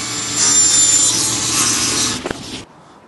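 A hand or panel saw cuts a wooden board in a workshop, a steady, loud rasping stroke running for over two seconds before a brief clunk and a sudden stop into quiet.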